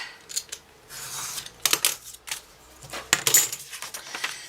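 Craft material is trimmed to length with a few short, close snips and crisp cutting sounds, interspersed with light handling rustles and small clinks.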